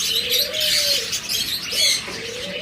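Pigeons on a bird farm coo repeatedly in soft, rolling calls close by, with lighter chirps and a brief flutter of wings over a quiet background.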